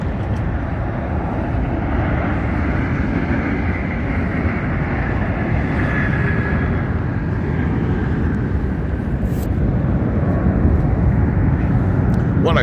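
Airplane passing near Las Vegas airport by Sunset Road, a broad rumbling roar heard from outside a fence that stays loud and steady, with a person talking over it.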